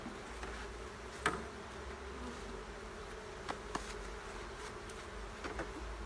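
Honey bees buzzing around an open hive box on a farm during a nuc installation, a continuous close hum with a few louder knocks and bumps from the hive frames.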